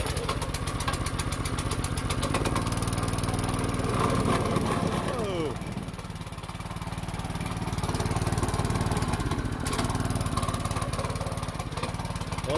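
A small engine runs loudly and close by with a rapid, rough, chattering putter, its pitch dipping briefly midway and then steadying, with a voice talking faintly underneath.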